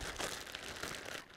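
Plastic freezer bag holding marinated steaks for a mushroom garlic steak recipe, shaken briefly by hand: a close, steady crinkling and rustling of plastic with soft sloshing, about a second long, with no talk.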